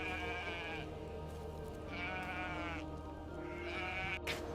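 Domesticated sheep bleat repeatedly, several drawn-out wavering calls spaced a second or so apart over steady rural background noise.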